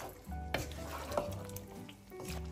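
Dark kala bhuna meat sizzling as it is braised on very low heat, a close, steady frying crackle with a few soft stirring scrapes.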